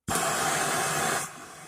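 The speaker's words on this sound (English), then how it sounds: "blue this with my torch. So I'm going to get the blue discoloration that comes from too much heat." A handheld torch flame roars steadily against a steel Stilson pipe wrench part for about a second, loud and close, then cuts off to a faint hiss.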